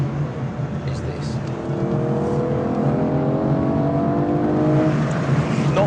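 An Aston Martin V12 Vantage accelerates, its engine note climbing steadily in a smooth, loud, sustained rise, with a voice talking faintly underneath.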